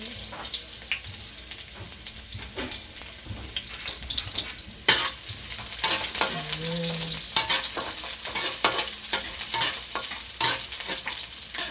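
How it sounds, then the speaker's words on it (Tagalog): Onion and garlic hit hot oil in a pan while cooking kangkong adobo, giving a steady loud sizzle and crackle throughout, with occasional stirring clatter and no talk. "parang mainit na ang ating oil. Ilagay natin ang ating onion at garlic."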